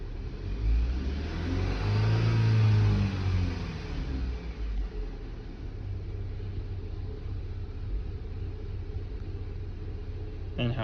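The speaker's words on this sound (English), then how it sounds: "Now with a severe vacuum leak, you can tell a difference in the operation of the vehicle," A car engine idles roughly with a severe vacuum leak, a deep close rumble that swells briefly as if revved near the start, then settles into a steady low drone with a faint hiss on top.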